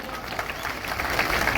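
Farmers at an open-air protest rally in Nalgonda applaud in a brief, fairly faint burst of dense crowd clapping that swells slightly toward the end.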